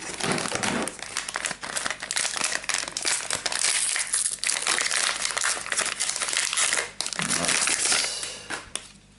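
Foil booster pack wrappers for the Star Wars Destiny card game, Empire at War set, being torn and crumpled open by hand: a loud, close, continuous crinkling and crushing that runs almost without a break, with no voices.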